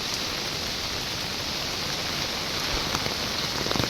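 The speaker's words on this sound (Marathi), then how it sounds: "मित्रांनो हा आवाज येतोय तो पावसाचा आहे" Heavy rain pours down during a night outing, a dense, steady hiss of falling water filling the whole stretch, loud and even with a few sharper drips near the end.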